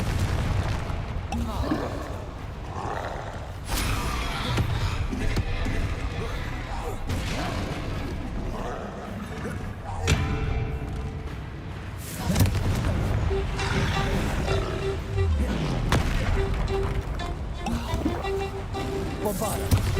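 Fiery Confringo spell blasts from Hogwarts Legacy, loud repeated booms and bursts layered over game music and effects, with a voice talking throughout.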